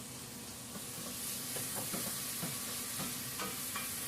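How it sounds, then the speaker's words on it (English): Quiet steady sizzling of onions and garlic frying in hot oil, with occasional stirring clicks from a utensil. "Now the oil is hot, as you can hear. We add the onions and the garlic first."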